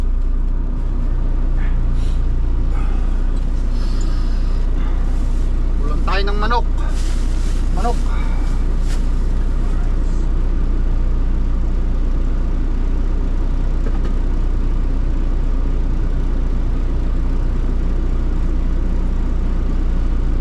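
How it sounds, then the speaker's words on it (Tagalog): A truck engine idles in cold weather, its steady low rumble running unbroken throughout with some wind buffeting, while someone talks briefly over it near the start. "Start ulit natin ang truck para magpainit tayo."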